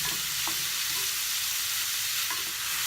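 Chopped onion sautéing in a pan for wonton soup, a steady broadband sizzle throughout with a few soft scrapes of stirring, close and continuous with no voices.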